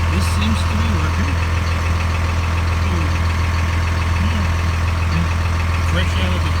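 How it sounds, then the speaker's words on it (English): A 1999 Dodge Ram Cummins turbo diesel truck idles close by with a steady low rumble and clatter, while voices talk faintly over it. "In a 1999 Dodge Ram Cummins turbo diesel?"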